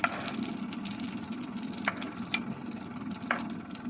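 Egg omelette with sliced vegetables frying in a pan; a continuous close sizzle with a few light scraping taps from a utensil, no voices.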